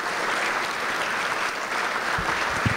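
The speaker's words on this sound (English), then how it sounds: "I want to offer up a great round of applause for what he is doing for you here in" Applause from a dinner audience for a county judge at an annual association banquet, a steady dense wash of clapping filling the room for a few seconds.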